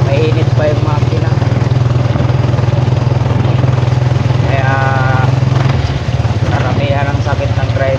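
A tricycle motorcycle engine running hot in the rain, a loud, steady close idling drone throughout, with someone talking over it.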